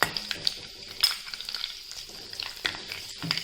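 Cumin seeds and garlic pods sizzle and crackle in hot oil in a pan, a continuous close frying hiss with occasional sharp clinks and stirring scrapes, without any talk.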